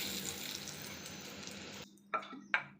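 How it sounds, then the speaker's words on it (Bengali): Chicken pieces fry in oil with a dense close sizzle for about two seconds, which then cuts off, followed by two brief clinks of a utensil against the pan. "এইভাবে প্রত্যেকটা চিকেন আমি ভেজে নেব"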